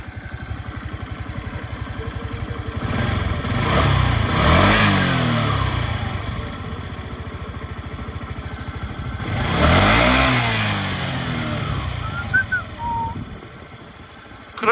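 A small Suzuki Address V50 G scooter engine idles steadily and close by, swelling louder twice as it briefly revs up, with no talking.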